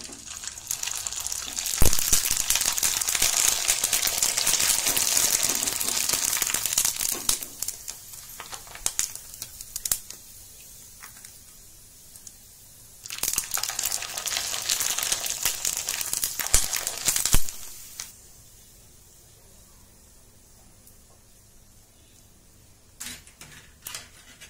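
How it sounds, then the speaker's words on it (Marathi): Bibde, Khandeshi crisps, frying in hot oil in a kadhai: loud bubbling sizzle in two long bursts with crinkly crackles and quieter gaps between, with no voices. "मी तुम्हाला तळून दाखवते"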